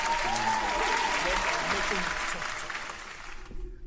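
Steady applause and clapping from a crowd fill the clip, fading slightly toward the end.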